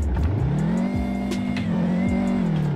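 A heavy BMW M5 drift car revs hard while drifting, its engine holding a loud, steady, close growl with pitch swells and slight dips, and faint tire noise underneath.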